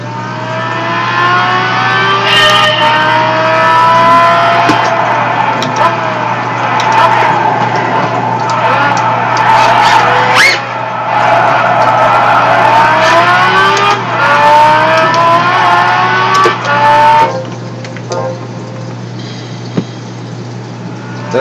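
A Lamborghini in a racing video game drives hard, its engine revving up and down in repeated rising sweeps with tire squeal, loud and continuous.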